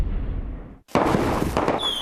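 Fireworks go off with a deep rumbling boom, a brief gap, then a sharp, loud burst of crackling explosions that keeps sputtering, heard up close with no voices.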